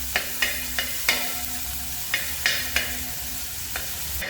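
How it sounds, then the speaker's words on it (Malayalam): Garlic and ginger sauté in a pan for a Kerala-style pork dish, a steady close sizzle broken by repeated sharp spatula scrapes and knocks against the pan at an irregular rhythm, with no talk. "വെളുത്തുള്ളിയും ഇഞ്ചിയും കൂടെ ഇട്ട് കൊടുത്ത് നല്ലോണം അതിൻ്റെ പച്ചമണം മാറുന്നത് വരെ നമ്മൾ നല്ലോണം സോട്ട് ചെയ്ത്"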